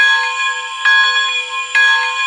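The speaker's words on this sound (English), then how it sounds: "And you can't forget the bell." A toy-train bell from an MTH PS3 model PRR G5s steam locomotive rings loudly and close, two clear metallic strikes with a sustained tonal ring between them.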